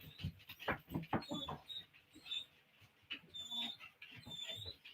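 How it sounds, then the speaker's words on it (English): Dog whining and howling indoors, repeated high-pitched cries in bursts with some lower yelps, fairly close and loud throughout. "Let that stupid honky dog outside"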